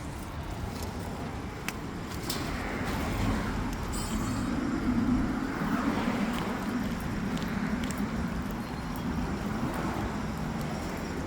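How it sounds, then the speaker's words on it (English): Steady road traffic outside a parked car, a continuous broad rumble of passing vehicles with faint clicks nearby and no clear speech over it. "There's so much traffic on that road."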